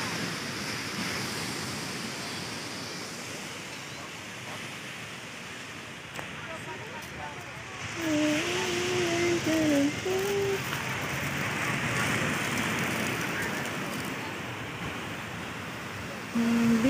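Ocean waves wash onto Hampton Beach in a continuous broad roar with some wind, while people's voices rise over it midway.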